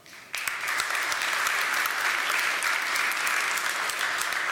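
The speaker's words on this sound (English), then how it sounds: "please clap now" A large audience applauds steadily and loudly in a conference hall, clapping to vote yes on whether Airbnb is a proper hospitality company; the dense clapping begins abruptly and holds throughout.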